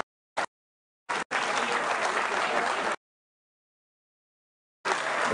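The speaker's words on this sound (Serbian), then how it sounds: "Aplauz za sve vas." Audience applause at a festival award ceremony breaks out in short clipped bursts, with one sustained stretch of dense clapping between silent gaps.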